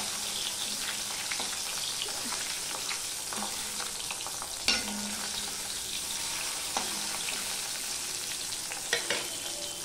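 Pabda fish fry in hot oil in a pan with a dense, continuous sizzle and occasional clicks of a utensil, close and steady throughout.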